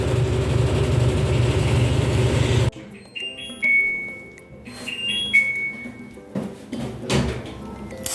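End-of-cycle beep from a Hisense Bubble Clean 8 kg top-loading washing machine: a short series of clear electronic tones of varying pitch sounding after loud spinning noise stops, with some handling clatter nearby.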